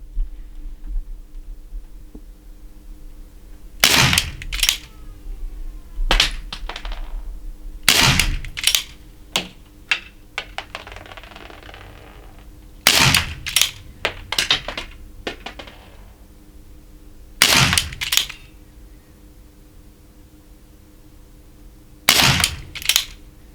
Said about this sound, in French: Et donc pour la version à plomb diabolo, je vais tirer dans la gommette du bas.